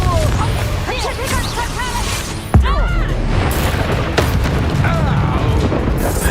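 Explosive spells Expulso and Confringo cast in Hogwarts Legacy give a sharp booming blast with a crash, then a whooshing burst and more rumbling impacts, loud and close over busy game sound and shouted voices.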